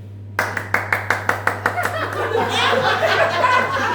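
A comedy club audience claps in a sparse, rhythmic pattern of about a dozen distinct claps, then dissolves into scattered chuckles, laughter and murmuring under a steady low hum.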